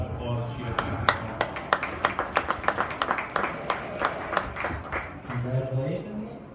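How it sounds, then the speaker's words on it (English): An audience at a fair livestock show, during the ribbon presentation for Dorset sheep, gives scattered hand claps that rise and fade over several seconds, with a low bleating or droning tone at the start and end. "Please give her a round of applause as she approaches"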